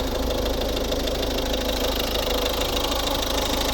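A 2012 Volvo S40 with a 1.6 D2 Peugeot-Citroën diesel engine idles steadily up close, a continuous rough clatter with a low hum and no talk over it.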